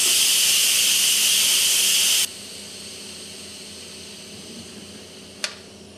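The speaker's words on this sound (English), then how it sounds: "Let's turn the steam release handle to the vent position for a quick release." An Instant Pot releases pressure through its steam vent on quick release: a loud, steady jet of hissing steam that abruptly cuts off after about two seconds, leaving quiet background and a brief click near the end.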